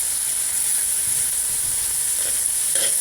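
Rice and vegetables sautéing for pork chao fan, a steady close sizzle and hiss with a few faint stirring scrapes toward the end.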